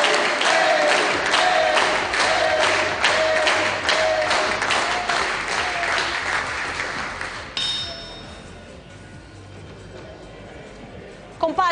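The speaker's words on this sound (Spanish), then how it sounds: "Palmas de todos los presentes hoy en este hemiciclo" Sustained applause fills the Peruvian Congress chamber, a dense wash of clapping from many hands that runs for several seconds, then thins and fades toward the end amid murmuring voices and a brief bell-like ring.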